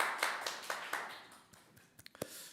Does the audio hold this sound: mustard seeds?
no